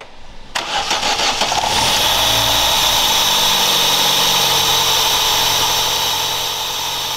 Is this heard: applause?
no